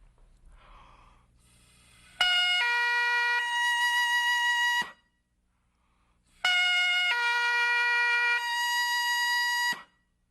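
Highland bagpipe sounding a tuned octave from low A to high A, two long loud sustained blasts with bright stacked harmonics, each about two and a half seconds, separated by a short silence.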